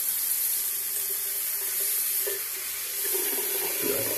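Very hot water pours steadily from a tap, a constant bright hiss with a faint splashing shift in tone toward the end, no talking.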